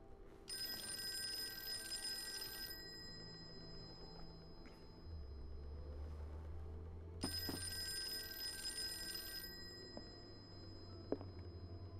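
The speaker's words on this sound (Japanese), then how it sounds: "電話か。" An old-style telephone bell rings in two long bursts with a pause between, at a moderate distance, over a low ambient drone in the horror detective game Call of Cthulhu, with no voices.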